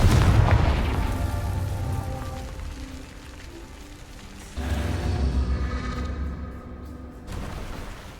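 A Confringo fire-blast spell goes off in Hogwarts Legacy, a loud booming explosion with a rumbling tail, followed a few seconds later by a second heavy blast that fades out.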